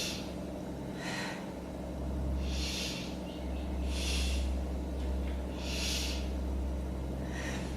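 Slow, deep breaths during a beginner yoga session, five or so airy inhales and exhales at a steady, unhurried pace, close and fairly soft over a low background hum.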